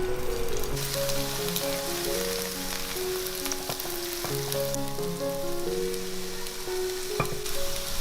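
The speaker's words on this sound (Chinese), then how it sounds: "把藕片饺子放下来煎。" Lotus root slices folded around a meat filling pan-fry in a little oil in a flat pan, giving a continuous crackling sizzle with scattered spits and pops, heard close under a melodic music track.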